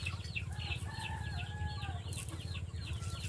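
Backyard chickens clucking and calling over a steady low hum, a run of overlapping soft clucks and drawn-out hen calls at moderate distance, with no talk.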